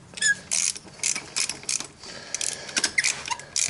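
A hand ratchet tightening spark plugs on a Nissan Skyline R33 GTS-t, quick bursts of fine clicking in short strokes with brief pauses between them, close up and without talking.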